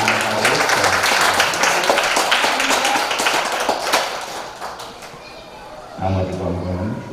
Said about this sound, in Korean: 박수로 감사하고